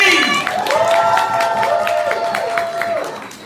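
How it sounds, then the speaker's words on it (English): A poetry slam crowd in Austin cheers and claps for a performer, loud whoops and voices riding over scattered rhythmic clapping that gradually eases off. "Make some noise for Maddie B."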